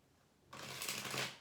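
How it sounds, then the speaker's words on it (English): Tarot cards being shuffled by hand, a sudden close riffle of flapping paper that starts after a quiet moment and runs briskly for under a second. "Let's get some more cards on the table."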